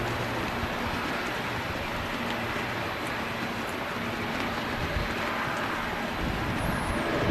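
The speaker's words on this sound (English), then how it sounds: "And there goes the Logan Air ATR." A Logan Air ATR 72 turboprop takes off at Manchester Airport, a steady broadband roar with a faint droning tone holding at a constant level throughout, heard from a distance with no talk.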